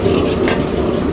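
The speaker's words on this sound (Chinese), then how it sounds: "虾呢，先给它翻炒一下，让这个油啊进到虾肉里面去" Shrimp stir-fried in oil over low heat in a wok, giving a steady, close, dense sizzle with the faint scrape of stirring and no talking.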